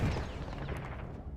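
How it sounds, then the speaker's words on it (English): Cannon fire in Battlefield 1 sounds as a single muffled boom at the start, then a rumbling, crackling tail that fades over about a second and a half. "I got shot out of the air with a cannon"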